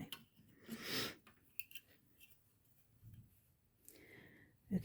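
Scissors trim thread on a sewn Christmas journal signature: a few quiet, close snips and rustles, with one fuller cut early and another sharp snip at the very end.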